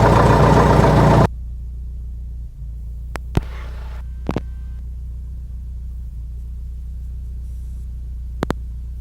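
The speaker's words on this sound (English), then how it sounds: "To smooth out the idle, and we let it warm up to 100 degrees Fahrenheit oil temperature." A Cessna Cardinal light aircraft engine idles while warming up, a steady close low rumble and throbbing hum with a brief louder burst at the start and a few sharp clicks, no talking.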